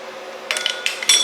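A small hand tool works the serpentine belt tensioner bolts on a 2006-2011 Honda Civic, making three short metallic clinks and rattles in quick, uneven succession, close by.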